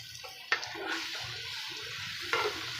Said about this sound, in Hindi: सब्ज़ी को अच्छे तरीके से हम मिक्स करेंगे इसके अंदर।